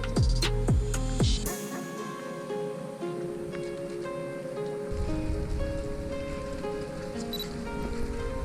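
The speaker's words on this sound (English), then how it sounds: "that's the rain" Steady rain falls outdoors in a continuous, even hiss that stays fairly soft and close throughout, with no voices over it.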